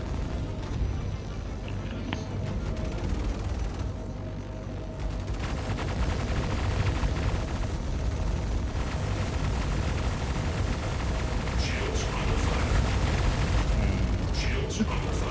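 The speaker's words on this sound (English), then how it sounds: "Seeing all the turrets fire, it's pretty cool." Ship turrets firing in a space video game, a dense continuous barrage of loud booms and gunfire rolling on without pause, with game mechanism noise underneath.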